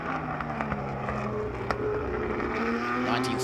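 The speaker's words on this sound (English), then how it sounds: "this great little tussle between Sandra McNeil and Steve Schmidt in the Ferrari and the Porsche" Vintage race cars, a 1962 Ferrari and a 1958 Porsche, racing on track; a continuous distant engine drone with a rising pitch over steady crowd-like background noise.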